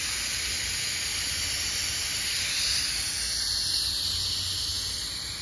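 A garden hose sprays water over plants with a steady, close hiss that stays even for several seconds.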